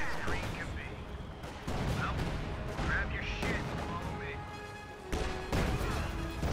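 A demolition charge detonating in a military video game, heard as heavy booming blasts and crashes amid ongoing gunfire, with commentary voices talking over the battle.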